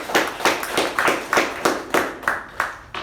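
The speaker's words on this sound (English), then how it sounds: "A good round of applause for all the speakers and the" A small audience applauds speakers and evaluators at a club meeting, giving about ten separate loud, evenly spaced claps that sound like a few people clapping rather than a large crowd.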